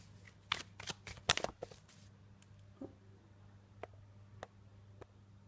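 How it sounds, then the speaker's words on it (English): Tarot cards are shuffled in quick riffling bursts, loud at first, then a few softer scattered flicks and taps. "Sometimes I get a little bit too enthusiastic shuffling the cards."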